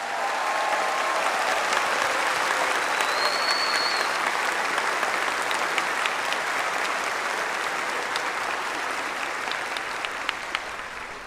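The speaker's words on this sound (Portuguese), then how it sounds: "Então eu queria pedir que o povo baiano desse uma salva de palmas aos visitantes do nosso evento." Large crowd at a Banco do Brasil Inspira event in Bahia applauds visitors, a broad sustained wash of clapping with a few whistles cutting through.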